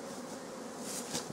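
Honeybees buzz around beehives at a rural farmstead apiary, a soft, steady, slightly wavering drone with a few louder passes from bees flying close, no voices.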